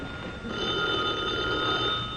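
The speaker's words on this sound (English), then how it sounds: "Answer the phone, Eddie" A telephone bell rings continuously on an old-time radio comedy set in a tavern, a steady, bright metallic trill heard alone and fairly close.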